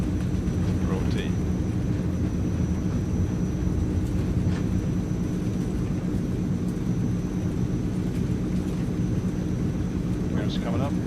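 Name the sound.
Transall C160 aircraft taking off, Microsoft Flight Simulator video game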